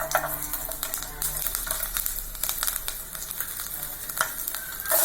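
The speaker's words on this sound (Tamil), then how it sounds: "இப்போ ஆயில் ஊற்றியாச்சுங்க. இப்போ பூண்டு போட்டுக்கலாம்." Garlic frying in hot oil in a kadai, a steady close crackling sizzle with scattered sharp pops and occasional stirring scrapes, no talk.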